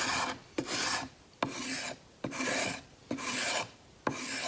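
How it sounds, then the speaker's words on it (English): Edges of a clay tile being beveled by rubbing with a tool in diagonal strokes, five or six rhythmic rasping scrapes, each starting with a sharp click, close and clear with no talking. "take away any excess clay. round the corners a little bit, bevel those edges."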